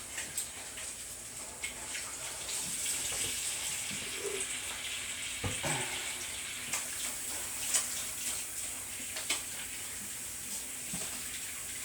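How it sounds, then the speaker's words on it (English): Kitchen tap running over hands being washed with soap, a steady soft water hiss with scattered splashes and rubbing clicks over about twelve seconds, no talking. "Let me wash my hands real quick here with some soap and water."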